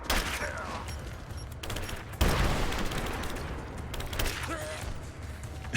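Gunfire and a blast in the Rise of the Tomb Raider multiplayer game: dense, continuous bursts of shots and rattling mechanical clatter, with a heavy boom partway through, loud and steady throughout.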